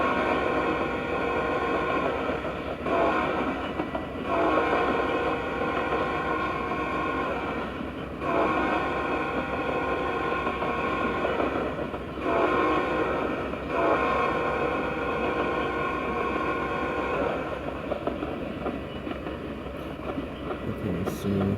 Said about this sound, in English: Oh shoot, we're coming up to the station.